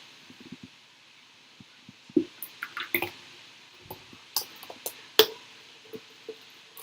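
Thick raw lavender soap batter is poured from a large pot into a mold, making scattered soft wet plops and drips in an irregular rhythm. It is quiet, close and has no talking over it.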